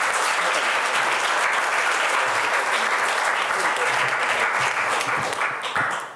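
Audience applause at a debate, loud and dense clapping from a crowd that carries on steadily for several seconds before starting to taper off at the end.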